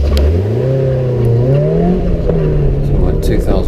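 A racing car engine revs loudly and close for a 2000 rpm start at a sprint event, pitch climbing and dipping then settling into a sustained roaring drone.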